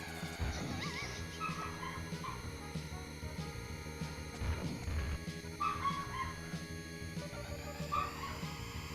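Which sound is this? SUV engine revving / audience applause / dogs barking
dogs barking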